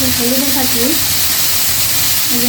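Fish frying in a pan seasoned with cumin, salt and chili, giving a steady close sizzle and hiss throughout, with some faint tonal sounds over it.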